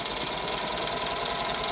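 A sewing machine runs continuously, stitching insulated fabric and batting around the edge of an oven mitt, a steady close mechanical whir.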